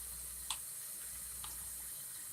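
Hot water runs from a kitchen tap into a sink in a steady, fairly quiet hiss, with two brief clinks of something touching the sink.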